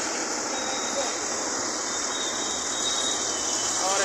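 Buses crowd a busy street in Noida, India, their engines rumbling in a dense, constant roar of traffic noise with a faint high tone running through it; voices mingle in the background.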